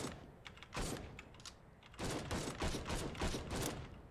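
Rapid bursts of gunfire from the video game Caves of Qud crackle in uneven clusters, with a short volley early on and a denser, sustained barrage in the second half, loud and without talk.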